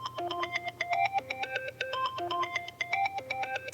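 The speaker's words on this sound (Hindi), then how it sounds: "सुमन, तुमने एक काम करो, ये फोन कट करो और दोबारा मिलाओ" A electronic ringtone melody plays continuously, rapid bright beeping notes in a repeating tune, fairly loud with no voices.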